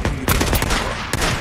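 Loud, close rifle fire in the video game Days Gone, with a few sharp shots cracking in quick succession over a dense, noisy backdrop.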